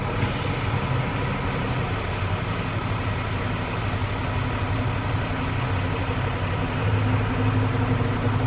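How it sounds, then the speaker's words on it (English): A truck's air brake system runs steadily through a trailer brake and parking brake test, with a constant low rumbling idle and a brief hiss of air at the start and no talk. "I'm going to push in my trailer brake, and I'm going to check my parking brake."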